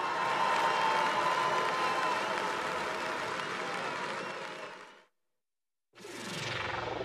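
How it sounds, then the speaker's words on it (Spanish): Loud crowd applause in Paper Mario: The Thousand-Year Door, cheering swells and then fades out, a short silence follows, and another burst of crowd noise returns. "debemos leer un fuerte aplauso al gran González"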